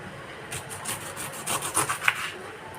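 A knife slices through a pineapple for juice in a series of quick, rasping strokes, close and fairly loud, with no voices.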